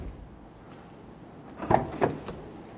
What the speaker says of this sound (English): let's go ahead and shut that door and give that handle a test